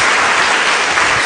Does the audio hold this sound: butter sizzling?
no